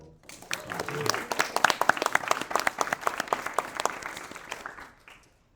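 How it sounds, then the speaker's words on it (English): Audience applause at a school Demo Day, individual claps clearly audible as it swells quickly, holds steady, then tapers off and fades out after about five seconds. "So another round of applause."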